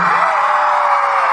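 A live concert crowd at a stage show yells and whoops together, a loud sustained roar of many voices held for the whole moment.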